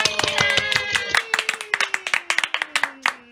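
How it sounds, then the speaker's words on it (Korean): A classroom of students claps for two teachers after an art lesson, a handful of hands beating out quick, distinct claps close by, with a steady tone sliding slowly downward underneath. "두 분께 박수!"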